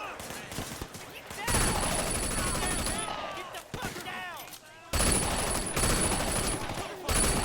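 Automatic gunfire bursts in the action game Sleeping Dogs, loud rapid volleys in two long stretches separated by a brief lull, with players talking between and over the shots.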